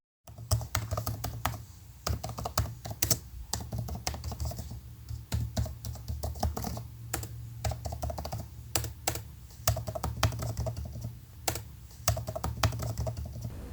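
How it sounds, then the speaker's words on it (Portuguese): Someone types on a computer keyboard at close range, with rapid, irregular key clicks and occasional heavier keystrokes running continuously over a low steady hum, no voices. "Teclado do computador sendo digitado"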